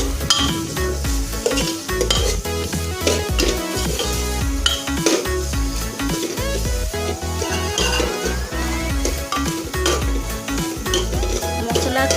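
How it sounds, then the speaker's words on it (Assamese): Pointed gourd masala fries in oil in a pressure cooker while a spoon stirs it constantly, giving a continuous close sizzle broken by repeated scraping and metallic clinks against the pot. "তেলত যাতে লাগি নধৰে ভাল ধৰণে লৰাই লৰাই ভাজিব লাগিব।"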